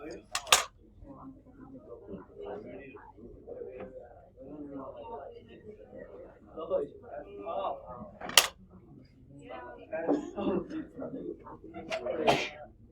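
A couple of sharp, sudden sneezes stand out amid quiet chatter and clinking of dishes, one early and another midway through.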